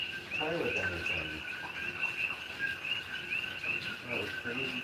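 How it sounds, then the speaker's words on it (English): Frogs croak and trill at night in Pahoa, Hawai'i during a hurricane, a steady chorus of shrill high calls with insect-like chirps, faint and continuous throughout. "Listen to those frogs."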